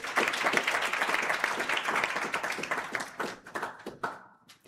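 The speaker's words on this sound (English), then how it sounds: "Let's give her another round of applause." An audience gives a speaker at an African Renaissance event a round of applause, a dense burst of many hands clapping that thins into scattered claps and fades out after a few seconds.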